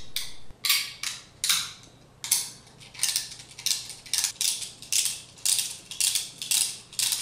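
A hand ratchet tightens the coil bolts on an Emperor series pump, a steady run of close, crisp clicking bursts in short repeated strokes, with no talk over it.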